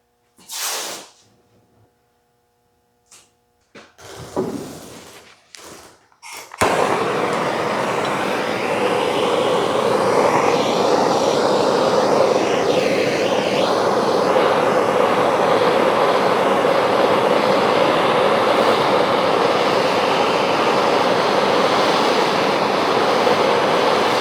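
A section is cut off the bottom of a 1951 Ford body panel: a loud, steady, harsh cutting roar starts abruptly after a few quiet knocks and bumps and runs unbroken to the end.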